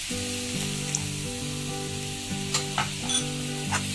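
Thin gravy thickened with besan bubbles and simmers in a pan, giving a continuous close sizzle with faint stirring taps and no talk.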